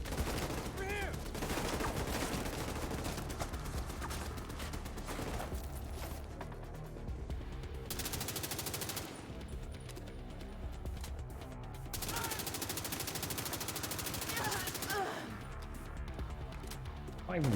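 A mounted turret in The Division 2 fires in sustained, rapid loud bursts across the whole stretch, with brief lulls, crashes and voices mixed in.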